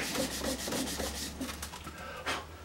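A wet finger rubs along a slip of reed cane, producing a soft, steady rhythmic rasping of repeated strokes, close and quiet with no talk.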